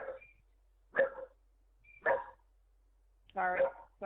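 Several dogs bark outside a home as a car pulls into the driveway, giving short, moderately loud barks in three separate bursts about a second apart, with quiet gaps between them.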